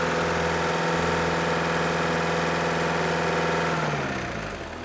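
An engine with a badly worn oil pump idles on a test stand, a loud, steady mechanical hum with a throbbing low drone that runs unbroken, then eases and drops in pitch near the end.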